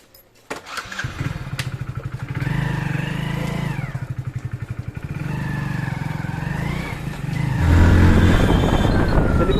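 A Hero Splendor Plus motorcycle being ridden toward a main road: the single-cylinder engine chugs steadily close by, rising and falling with the throttle, then surges louder near the end.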